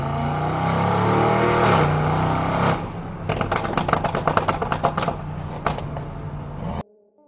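Mercedes G-Wagon Brabus V8 with a sport exhaust gives a loud, raspy drawn-out roar that fades, then a quick series of sharp crackling pops and revs before cutting off abruptly.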